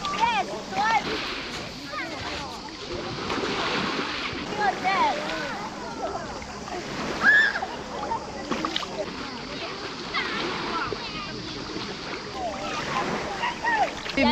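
Sea water splashes steadily as someone wades in for a swim at a pink-sand beach in Montenegro on a hot day, with a continuous wet churning and occasional louder splashes, and voices faintly in the background.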